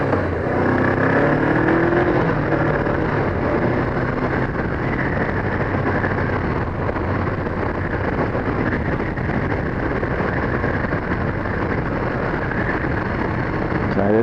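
A Honda CBR500 motorcycle rides through Cottesloe, Western Australia, its engine droning steadily under heavy rushing wind noise, with a brief rising rev near the start.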